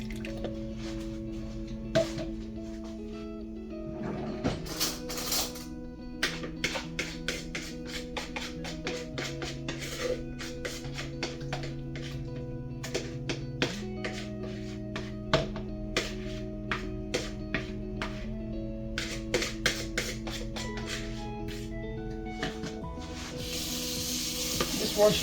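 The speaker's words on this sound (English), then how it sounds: "Washing my bowl up." Running water splashes and drips as a mixing bowl with melted butter in it is washed out at a kitchen sink. The sound comes in close, irregular clusters of splatters over a faint, steady background.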